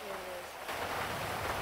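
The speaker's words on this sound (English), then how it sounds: "Oh, this rain's pretty killer." Steady rain pours down, a dense hiss that swells after a brief lull and fills the short stretch.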